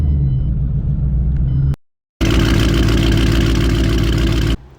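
A nitrous 3-valve Ford Mustang budget build with a Boss 302-style setup idles with a loud, steady rumble, cuts to silence for a moment, then returns at the same level.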